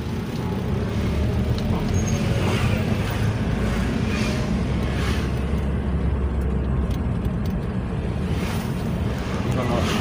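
A Toyota Rush drives along at low RPM, its engine and road noise forming a steady, loud, continuous rumble with a broad rushing layer, like wind, heard from inside the car.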